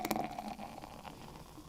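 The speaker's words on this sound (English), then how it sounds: "Pouring beer into a glass, 20 seconds, pouring beer" Beer being poured into a glass, a short bubbling, fizzing gurgle that starts with a brighter splash and trails off into soft foaming, quiet and alone.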